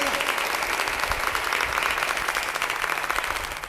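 Audience at a kavi sammelan comedy poetry event clapping in a steady, dense wash of applause throughout, moderately loud with no clear pauses.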